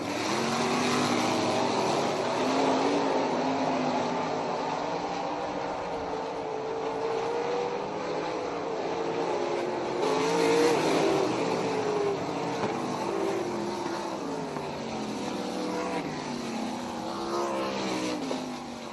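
Pack of seven 360 sprint cars racing an eight-lap heat at Humberstone Speedway, a continuous blended engine roar heard from the stands that swells and fades as the field circles the track, with no voices.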